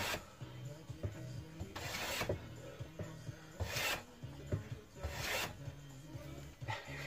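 A Lie-Nielsen No. 60 1/2 block plane shaves poplar in repeated rasping strokes, with several louder, hissing passes, close and steady, with no talking.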